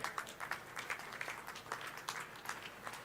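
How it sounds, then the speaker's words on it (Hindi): An audience at a village panchayat event applauds to welcome a guest, a faint, distant patter of many hands clapping at an uneven pace. "कृपया जोरदार तालियों से स्वागत कीजिए"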